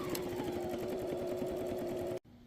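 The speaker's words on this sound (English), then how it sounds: "We're just going to stitch at the bottom." Sewing machine stitching across the bottom of a fabric card holder or money pouch, a fast even motor hum with rapid needle ticks that runs steadily, then cuts off abruptly just before the end.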